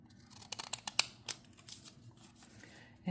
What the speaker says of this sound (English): I'll use my decorative edge scissors just to put a little bit of an edge on these sides of